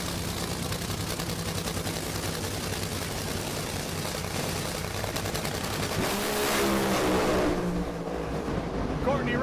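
A Funny Car drag racer tears down the strip with a steady, loud engine roar that swells and takes on a rising whine toward the end, holding up for the whole stretch.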